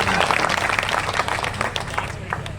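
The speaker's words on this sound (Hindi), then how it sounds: "एक बार मुकेश जी के लिए ताली बजा भाई, ताली तो कर रहे हैं।" An audience at a Hindi kavi sammelan poetry event claps for Mukesh ji with steady, dense applause throughout, and voices are faintly audible beneath it.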